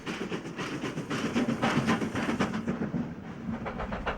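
A Thornton-based B1 steam locomotive, number 61147, hauls a train of empty wagons on a Scottish line, with a loud, continuous rumble and rhythmic clickety-clack of wheels passing close by.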